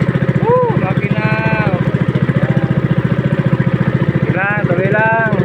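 A small boat engine out at sea, long unused, runs with a loud, close, rapid pulsing chug at an uneven idle, with voices talking over it in places.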